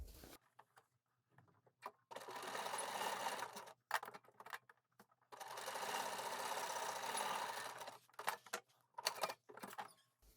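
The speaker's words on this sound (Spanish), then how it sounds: "vamos a coser en línea recta desde aquí rematando por aquí hasta aquí" A sewing machine stitches a straight seam in fabric in two sustained runs of rapid mechanical whirring, separated by pauses filled with quiet handling clicks and fabric rustle.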